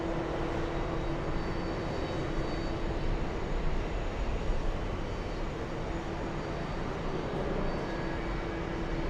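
Steady, sustained roar of airliner jet engines at an airport, heard from a lounge beside the runway as aircraft line up and land, constant and moderately distant with no voices.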